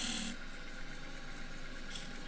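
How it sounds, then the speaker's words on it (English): A skew chisel's bevel side rounds over a cross-grain wooden box on a spinning lathe, giving a steady close rasping hiss with brighter scraping bursts at the start and near the end. "I'm going to use the wing of the skew, the bevel side rather."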